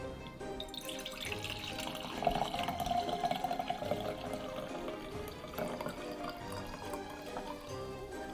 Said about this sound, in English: get your brandy glass and just pour into it